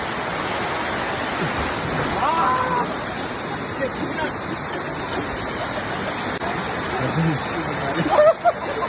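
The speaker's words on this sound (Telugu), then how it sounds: "వచ్చేసాం మనం అనుకున్న వాటర్ ఫాల్కి అయితే వచ్చేసాం" A small waterfall at Munnar roars in a constant, dense wash of falling water, with people speaking intermittently over the steady rush.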